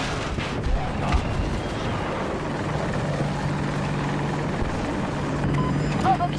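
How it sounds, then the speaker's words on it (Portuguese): An enemy helicopter in the video game Battlefield 2042 drones steadily at a distance, its rotor hum continuous beneath scattered gunfire and battle noise. "Helicóptero inimigo! Tá distante!"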